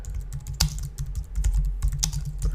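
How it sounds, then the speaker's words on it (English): Rapid typing on a computer keyboard, close and steady, with clustered key clicks and a few sharper strokes over about two and a half seconds, no voices. "I try to type quickly so you don't have to watch me and I mess it up."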